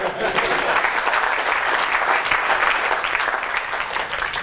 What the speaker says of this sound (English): Give Zoltan a big round of applause, please